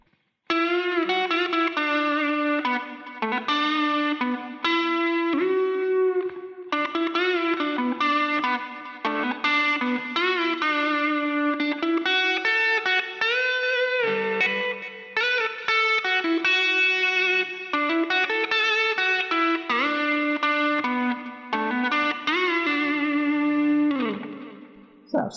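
Electric guitar playing a Jeff Beck style melodic line through a Line 6 Helix with a Variax, with effects, light distortion and reverb; loud, continuous sustained notes and bends, no talk.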